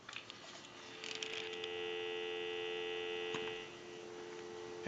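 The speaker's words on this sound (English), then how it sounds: "So we'll go ahead and give you some dial tone." A steady electronic dial tone on a Pacific Bell animated Mickey Mouse telephone line holds for a couple of seconds at moderate level, then fades back to a faint hum with a few soft clicks around it.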